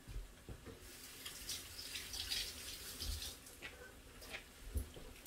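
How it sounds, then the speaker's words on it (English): Tap water runs into a kitchen sink as hands are rinsed during cooking, a soft steady splash with faint surges, quiet and alone. "Rinse my hands."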